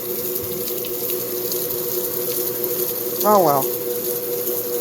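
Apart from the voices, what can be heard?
GE belt drive washer splashing water during spray rinse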